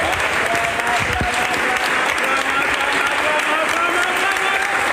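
Congregation in a church applauding and acclaiming during a sermon, a dense, loud, continuous wash of clapping with crowd voices underneath, holding steady throughout.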